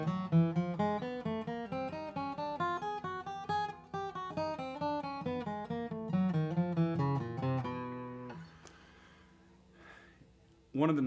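Acoustic bluegrass guitar picking a non-musical finger exercise that runs down the strings and back up, a steady stream of evenly spaced plucked notes for about eight seconds, then quiet room noise and a brief breath.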